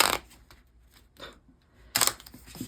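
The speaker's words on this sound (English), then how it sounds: "I don't know why I'm having so much trouble shuffling." Light Seers tarot cards are shuffled by hand in quick riffling bursts, with near papery flutters at the start and a louder burst toward the end, separated by quiet gaps.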